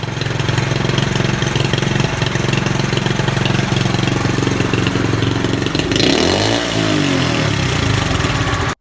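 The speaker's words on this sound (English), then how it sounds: "after an oil change and some fresh gas in the tank, boom, the bike started up like a champ" A motorcycle engine, just back in running order after an oil change and fresh gas, runs loud and close, holding a steady idle with a brief rise in revs near the end.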